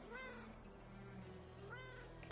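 A cat in a video game meows twice, a short rising-falling call near the start and another near the end, fairly faint over a low steady game background hum.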